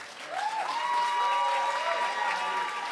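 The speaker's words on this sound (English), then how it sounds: "Eddie Hejka, come on, give him a big round of applause." Audience at a Moth storytelling night in Detroit applauds the storyteller, a continuous wash of clapping with a few faint cheers, with a sustained tonal whine riding over it.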